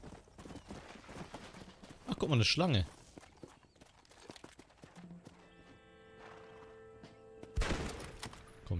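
Horse hooves clip-clopping in the video game Red Dead Redemption, a run of hoof steps with a neigh-like burst and other game sounds, while someone talks casually over the top.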